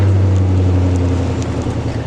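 A truck running without its exhaust and catalytic converters, a loud, steady, deep droning rumble close by that holds throughout with slight wavering near the end.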